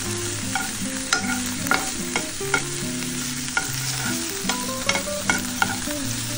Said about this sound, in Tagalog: Ating iprito.